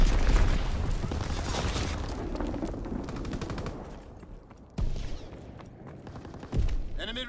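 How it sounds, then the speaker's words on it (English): Bombs explode and rapid gunfire rattles in a Call of Duty WWII team deathmatch, with dense automatic fire up front, then sharp separate blasts near the middle and end. "Enemy bomb incoming! Get to cover!"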